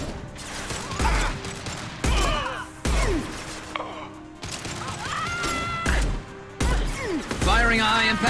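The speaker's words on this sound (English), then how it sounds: "Firing a high-impact shot." Heavy gunshots from Mass Effect 2 gameplay crack out in about eight spaced, booming bursts, each with a short echoing tail, mixed with voices and grunts.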